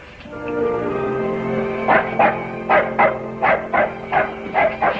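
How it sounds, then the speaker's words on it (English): A dog barks in a quick series of sharp yaps and yips, fairly close, over a steady tonal background hum. "Her dog."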